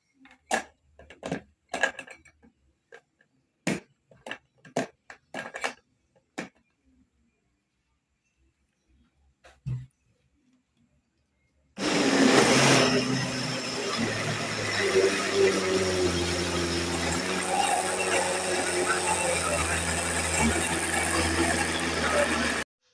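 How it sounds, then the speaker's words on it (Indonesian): A blender grinds carp bait porridge, starting abruptly after a stretch of faint clinks and near silence, then running as a loud, steady whirring roar for about ten seconds. "lalu kita mulai di blender."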